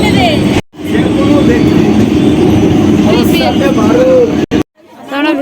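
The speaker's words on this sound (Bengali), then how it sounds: "আমরা এখন ট্রেনে উঠে পড়েছি আর যাচ্ছি শিয়ালদা" A passenger train bound for Sealdah rumbles steadily from inside the carriage, with people chatting and a murmur of other passengers under the continuous rolling noise, cut by a couple of brief dropouts.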